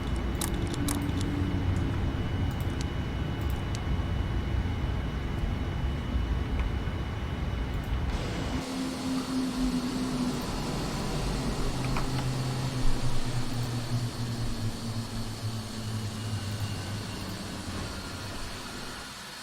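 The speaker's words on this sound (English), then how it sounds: "Engine shutdown." In the Prepar3D flight simulator, a parked Boeing 787 shuts down its engines: a steady broad mechanical roar drops abruptly partway through to a lower whine and hum that slowly winds down.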